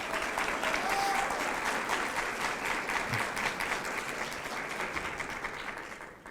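An audience at a presidential discussion event claps to welcome a guest onto the stage, dense sustained applause that starts full and slowly thins and fades toward the end.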